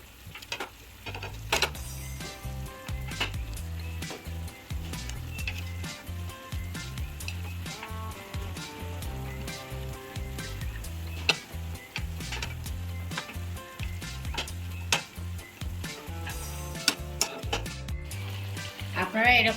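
Fish goes into a pan of greens cooked with water, salt, turmeric and green chili, sizzling steadily and close throughout, with frequent sharp clicks and scrapes of utensils against the pan.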